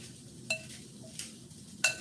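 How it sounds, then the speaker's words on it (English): Sweet broccoli salad is stirred in a bowl, giving three faint, separate clinks of a utensil against the dish, spaced out over a quiet background. "And just keep stirring it till it's evenly coated."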